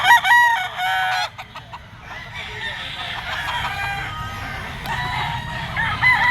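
A yellow-legged Picom gamecock stag of Golden Boy bloodline crows loudly and nearby at a market, with clucking from other fowl filling the background throughout.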